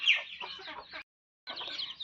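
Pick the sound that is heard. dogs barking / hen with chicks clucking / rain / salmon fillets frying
hen with chicks clucking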